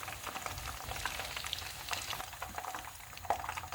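Chicken lollipops deep frying in hot oil over a medium flame, a steady close hiss of crackling bubbles with scattered sharper pops, holding at an even level throughout with no voices.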